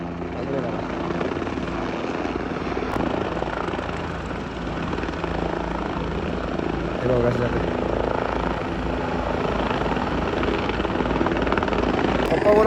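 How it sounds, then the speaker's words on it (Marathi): Helicopter rotor and engine noise at the Kedarnath helipad, a steady loud drone lasting throughout with people talking nearby. "हेलिपॅड समोर दे पप्पा बोलतो आठ हजार रुपये आहेत दोन दोन हेलिकॉप्टर आले"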